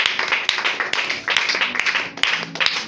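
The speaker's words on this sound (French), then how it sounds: "Acclamons très très très fort." A church congregation claps loudly in a quick burst of applause, with sharp, uneven hand claps packed close together.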